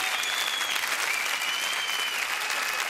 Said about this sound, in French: quelques applaudissements supplémentaires, s'il vous plaît